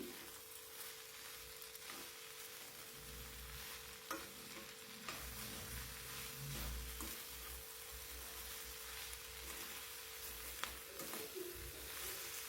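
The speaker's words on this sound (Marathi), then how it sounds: "मीठ टाकून झाल्याच्या नंतर परत एकदा भाजी आपल्याला छान मिक्स करून घ्यायची" Salted okra stir-fry is tossed and mixed in a pan, a low continuous sizzle with occasional scrapes and knocks from stirring, faint and steady, with no talking.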